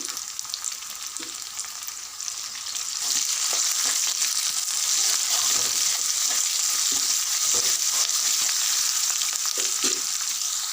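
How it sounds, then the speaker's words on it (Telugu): Onions and green chillies fry with ginger garlic paste and curry leaves, a bright continuous sizzle that swells after a few seconds and carries on, broken by scraping stirs of a spoon in the pan. "ఉల్లిపాయలు పచ్చిమిరపకాయలు మంచిగా వేగిపోయినవి"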